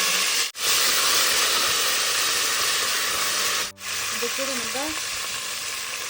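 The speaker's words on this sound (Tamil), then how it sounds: "கொத்தமல்லி, புதினா தழை போட்டுக்கலாம்" Curry leaves, green chillies, coriander and mint sizzle steadily in hot oil for a village-style mutton curry, a continuous broadband hiss with two brief dropouts, while a person speaks briefly over it.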